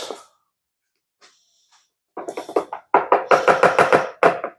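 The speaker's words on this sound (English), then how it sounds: "So kind of whisk that like that, just to get them mixed." A whisk beating egg whites in a bowl for eggnog, a rapid run of loud, close clinking strokes after a brief pause, with no talking.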